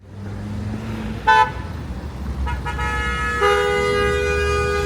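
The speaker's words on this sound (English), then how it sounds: "My God, there's a traffic jam." Cars honk in a traffic jam on a road in Tajikistan: a short toot, then a longer horn blast followed by a sustained honk over a rumbling bed of idling traffic.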